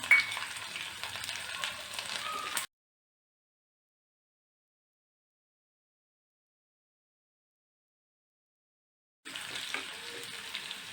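Dry red chillies, curry leaves and garlic tempering in oil with mustard seeds for mango thokku, a soft, crackling sizzle that stops, falls silent for several seconds, then resumes.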